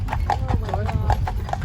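Horse hooves clip-clop steadily while pulling an Amish buggy along a road in Intercourse, Lancaster County, Pennsylvania, a near, even rhythm of hoof strikes with someone talking over it.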